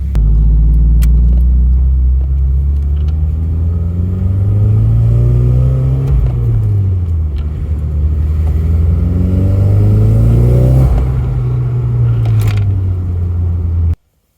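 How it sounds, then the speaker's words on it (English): A car on a test drive after a DIY boost gauge install, its engine droning steadily from inside with smooth rises and dips in pitch as it accelerates and shifts, loud and continuous before cutting off abruptly at the end. "So we're gonna go for a little drive and see if we can get a signal on there."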